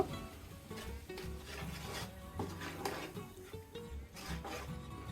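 Spices and dried chilli are stirred and sautéed in a pan for chicken biryani, a faint, steady scraping and rubbing of a spoon against the pan, with low background clatter and no voices.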